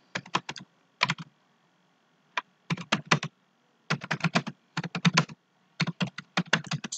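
Bursts of keystrokes on a computer keyboard while a code comment is written, rapid clicking in short clusters separated by pauses, close and distinct with no talking.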